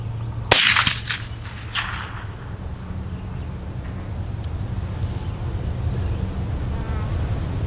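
A Ruger 10/22 rifle fires once at cans outdoors: a single sharp crack with short echoing tail, followed by a long stretch of quiet ambient background hum with faint insect-like buzz.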